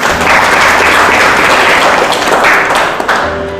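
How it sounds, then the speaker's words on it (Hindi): A church congregation breaks into a short burst of clapping during a Hindi sermon, loud and dense for a few seconds, then tapering off. "बजा सकते हैं ताली"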